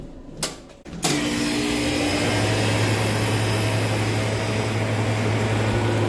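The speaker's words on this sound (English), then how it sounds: "So compressor started fine." A compressor on a unit with a bad internal leak kicks on after a couple of brief clicks and knocks, then settles into a steady, loud, even hum and whir that keeps running without a break.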